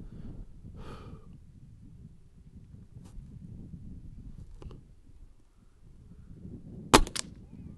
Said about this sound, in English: So let me just take a shot here.